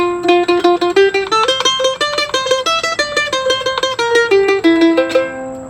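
Mandolin picks through the melody in bluegrass style with upstroke embellishments, a quick run of bright plucked notes in a steady driving rhythm, played solo and close with no talking.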